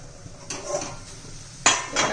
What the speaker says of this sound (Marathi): हे आपण झाकण काढून पाहूया